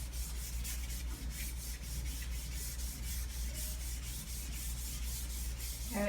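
Material is rubbed by hand onto an art project surface right up to the taped edges, a steady, soft, continuous scrubbing with quick repeated strokes, close and quiet, with no talking.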